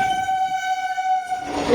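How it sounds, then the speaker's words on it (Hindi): A local train on the Sealdah–Ranaghat line passes by at a railway station, with a steady horn tone and rolling wagon noise throughout, growing louder and rougher near the end. "ओ भाई उधर से भी एक लोकल पास हो गए।"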